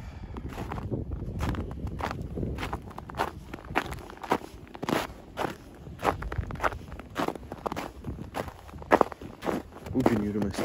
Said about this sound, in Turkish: Bugün yürüme stiline göre oldukça kolay